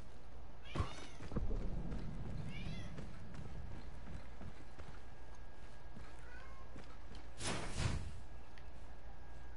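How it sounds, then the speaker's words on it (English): A cat meows indoors, with two clear, loud meows around the start and the end and quieter mews in between, while a person talks nearby. "stop meowing."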